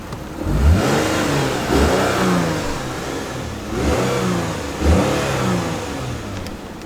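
A Lexus IS250 with a V6 engine revs in three distinct blips, each rising and falling, close and loud with no talking.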